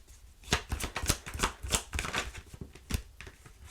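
Playing cards riffle-shuffled at close range in a series of quick rustling, flapping bursts with brief pauses between, moderately loud and alone.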